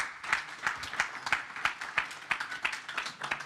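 Applause at a tech summit stage session, sounding like one or a few people clapping in a slow, even rhythm of roughly three claps per second, quiet and close, with faint room sound between beats.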